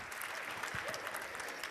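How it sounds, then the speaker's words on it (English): Audience applause at a school Euroscola session, a dense steady patter of many hands clapping at even loudness throughout, with a faint voice briefly under it. "Big applause."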